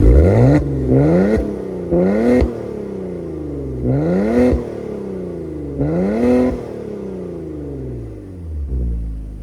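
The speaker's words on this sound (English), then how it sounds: "one thing you cannot dispute is that a beautiful exhaust note" A 2024 Maserati Ghibli Modena Ultima Q4 engine revs hard several times in a row, each blip rising sharply in pitch then dropping back, loud and close with a throaty exhaust note.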